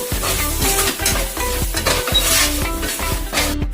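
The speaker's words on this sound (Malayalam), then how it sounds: "നമുക്ക് നന്നായിട്ട് മിക്സ് ചെയ്യാം." Noodle masala being stirred in a pan, with steady scraping and sizzling strokes close up, a repeating rhythm of a utensil working the mixture against the metal.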